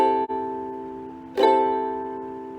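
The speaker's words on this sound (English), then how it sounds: "You want to make sure that when you're strumming your ukulele, you're hitting all of the strings." Ukulele strummed correctly across all strings, a sustained ringing chord followed by a second crisp strum about halfway through, clear and close with no talking.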